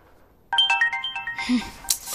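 A phone ringtone suddenly starts after a quiet moment and plays a bright, repeating melodic pattern, fairly loud and close, with a short rustle partway through and no speech.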